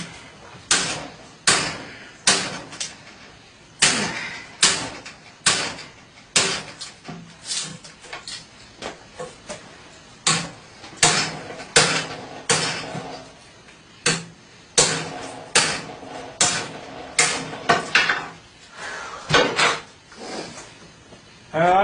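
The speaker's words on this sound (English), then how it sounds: "Giving it some pretty damn good massive hammer blows." A hammer strikes a military bayonet, a Russian AKM or American M9, during a knife durability test. Sharp, loud, close metallic blows land in a steady, repeated rhythm throughout.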